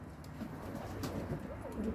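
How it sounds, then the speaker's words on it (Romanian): Racing pigeons coo softly in a loft, low burbling calls overlapping against steady background noise, fairly faint and without talk. "Uitați porumbelul care a venit a doua pe crescătorie."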